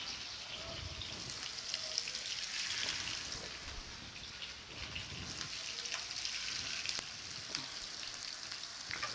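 Seekh kebab sizzling and frying in hot oil on low heat, a steady crackling hiss with occasional pops, close and moderately quiet, with no talking.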